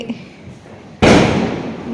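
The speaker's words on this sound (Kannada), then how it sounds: "ಎಲ್ಲ ಕಡೆ ಪಟಾಕಿ ಡಾಮ್ ಡೂಮ್ ಫುಲ್ಲು ಜೋರಾಗಿದೆ" New Year's midnight firecrackers: after a second of quiet background, a sudden loud bang bursts out and trails into a sustained crackling, rumbling roar of fireworks.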